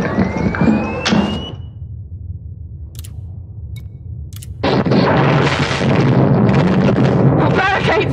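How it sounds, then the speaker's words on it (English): A barricade in a video game is breached by explosions and heavy fire: a loud blast and crackle at the start, a quieter stretch with faint sharp pops, then a sustained dense roar of explosions and gunfire. "Our barricade's been breached!"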